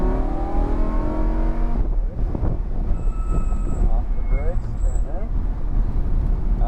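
A car accelerates hard on a racing track during a race-day driving session, its engine droning steadily and loudly throughout while an instructor talks over it.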